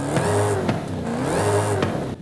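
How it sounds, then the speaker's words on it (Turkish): A supercharged drag car engine in the Forza Horizon 5 racing game revs steadily and loud, rising and falling in two long surges with a high supercharger whine over the engine drone, and no talk over it. "Bu süper charger sesi değil mi?"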